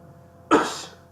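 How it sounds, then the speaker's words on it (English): A single sharp sneeze bursts out close to the microphone after a quiet stretch, then trails off into a fading breathy tail. "Did you sneeze at everyone?"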